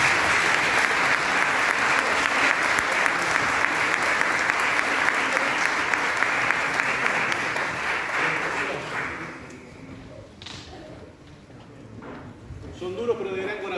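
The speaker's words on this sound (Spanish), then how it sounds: "a quien le damos un aplauso" Audience applause for a comedy duo at a commemoration in Sala Zitarrosa, dense and loud for about nine seconds, then thinning into a few scattered claps as a voice begins speaking.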